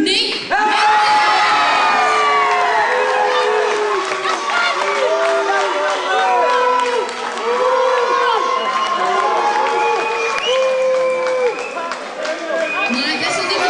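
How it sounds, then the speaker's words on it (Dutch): Crowd cheering for a fighter at a Golden Gloves amateur boxing event in 2008, with loud whoops, shouts and rising and falling high-pitched yells layered over clapping for more than ten seconds. "Applaus voor Anthony."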